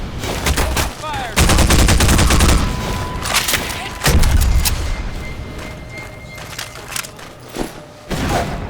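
Gunfire in the Half-Life 2 video game, loud close bursts of automatic fire and single shots in a chaotic firefight, with intermittent pauses and other game effects mixed in.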